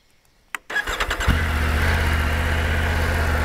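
An engine cranks with a quick rhythmic whirr of the starter, catches with a loud jolt, then settles into a steady, even idle that runs on alone.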